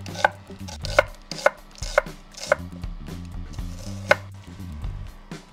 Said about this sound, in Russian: Репчатый лук нарезаем на обычные полукольца.